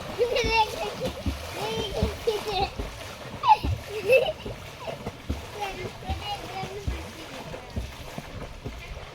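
Water splashes repeatedly as someone swims in a village pond, the uneven slaps and churning close by, with children and other voices talking throughout.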